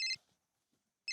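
A telephone rings with two short electronic bursts, one at the start and one at the end, separated by near silence, faint in a quiet indoor setting.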